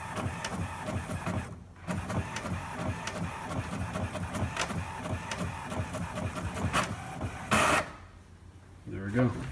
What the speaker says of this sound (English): The printer getting to work there.